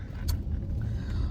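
A car rolls along with a low, steady road rumble and engine drone from inside the cabin, with a brief small click near the start and no talk.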